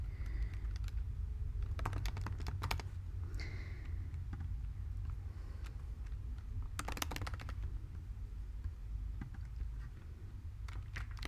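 Bursts of quick keystrokes on a computer keyboard entering details into an online form, in short clusters separated by pauses, over a steady low background hum and no talking.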